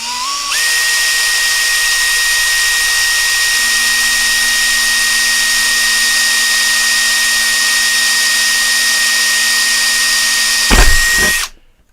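A roughly 15-year-old Makita drill bores into tough plastic at a desk, whining at a steady, loud, sustained pitch for about ten seconds before winding down with a brief clatter at the end.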